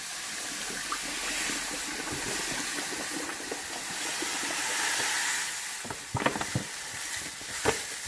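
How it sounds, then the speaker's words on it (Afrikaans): Sugar from a 5 kg batch pours into a bucket of ginger beer mixture as a steady granular hiss, ending with a few scattered clicks and knocks near the end. "So die volgende stap is om die res van die suiker in te gooi."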